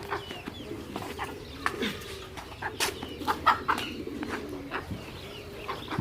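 Chickens cluck in a farmyard, a busy mix of short repeated clucks and calls from several birds nearby, with some cooing mixed in and no talk.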